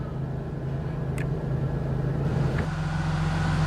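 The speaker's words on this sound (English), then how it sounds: "we're going to let the car run here for a while" A 1991 GM 3.8 Series 1 V6 running steadily after a knock sensor replacement, a continuous low rumbling hum heard nearby with a couple of faint clicks, no talking.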